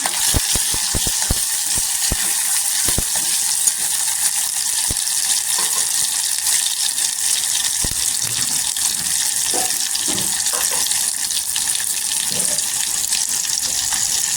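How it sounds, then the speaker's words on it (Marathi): Tomato and green chilli saute in hot oil for fish curry, a loud continuous close sizzle with rapid crackles early on and occasional soft stirring scrapes, and no talking over it. "टोमॅटो पण तेलावर परतून घ्यायचं"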